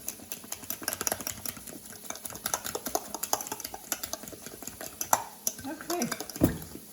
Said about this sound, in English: And then we're going to mix this up.